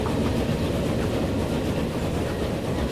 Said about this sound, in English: Okay, so that's that train going off that way.